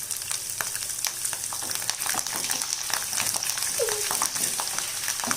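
Twenty cut garlic cloves fry in hot oil in a pan for Andhra-style tomato thokku, a steady broadband sizzle with crackling pops throughout, close and fairly loud, with no voices.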